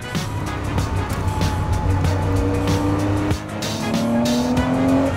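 A 1968 Porsche 911L engine revs hard through the gears, loud and close with rising pitch on each pull, a brief dip as one shift lands, then climbing again, with a hint of tire noise.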